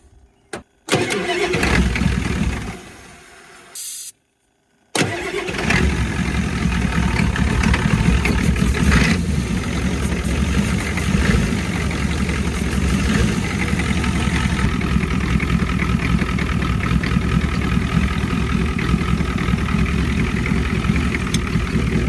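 A 1989 Ford F250 with a 7.3 IDI diesel cranks in short bursts, catches and settles into a loud, close, rattling diesel idle that runs steadily for the rest of the clip, with no talk over it.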